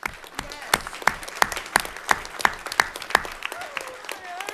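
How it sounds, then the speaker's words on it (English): A school committee meeting audience gives a student named Logan a round of applause: sharp rhythmic claps in a steady beat, tapering off as a voice begins speaking at the end. "round of applause for Logan"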